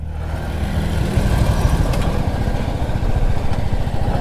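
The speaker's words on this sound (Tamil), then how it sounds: "இந்த பைக் பேர் வந்து மாடல் கிராஸ் ஃபயர்னு சொல்லிட்டு இருக்கு." A Crossfire off-road motorcycle engine runs loud and close on a hill trail near Pokhara, Nepal, a steady, throbbing idle with rapid firing pulses and no talk over it.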